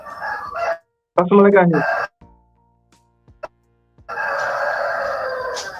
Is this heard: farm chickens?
yes